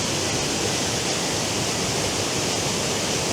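A waterfall at Fforddgrech Falls in the Brecon Beacons roars steadily from close by, a loud, unbroken broadband rush of falling water with no voices.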